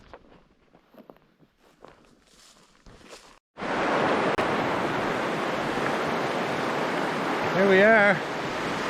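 The Sulphur River runs as a steady, loud rush of flowing water that starts abruptly and continues without a break, with a brief voice heard before it begins.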